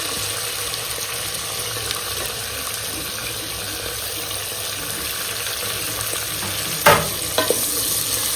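Green chillies dropped into keema frying in a pan, giving a steady hiss throughout with a brief louder sizzling burst near the end; no one speaks.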